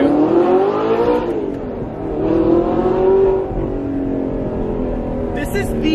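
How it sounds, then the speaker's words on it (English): An Audi R8 V8 fitted with a Frequency Intelligent exhaust revs and pulls through first gear from inside the cabin, a loud rising and falling engine drone with voices over it. "This is the best sounding car I've ever been in my entire life."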